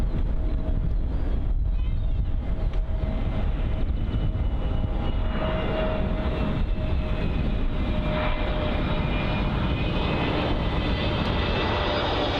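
An EasyJet airliner landing at Bristol Airport, a loud continuous jet engine roar and whine heard up close, holding steady with a rising tone through the touchdown and some wind noise on the microphone.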